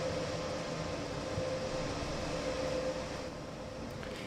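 Inside a Railjet Express train cab in Train Sim World on the Munich–Augsburg main line, a steady high-pitched screeching whine sits over a constant low rumble of the moving train.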